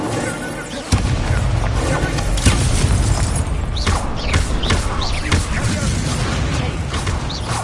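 Fire spell cast amid a busy Hogwarts Legacy combat sequence, a sudden burst of flame and impact near the start followed by sustained crackling, thuds and mechanical clatter in dense, loud game audio.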